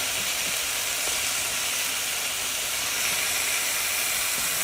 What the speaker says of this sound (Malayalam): നമ്മൾ കഴുകി വെച്ച് ചിക്കൻ ഇട്ട് കൊടുക്കാം കേട്ടോ